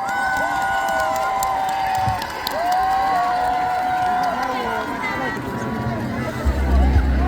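Festival crowd at an outdoor trot concert stage at the Jirisan Hamyang dried persimmon festival, cheering and applauding in a steady broad roar with a melodic tone sounding over it.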